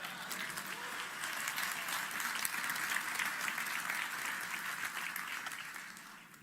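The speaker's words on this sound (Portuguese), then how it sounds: "aplaude o Senhor" Church congregation clapping for several seconds, a dense even applause that stays loud and then tapers slightly at the end.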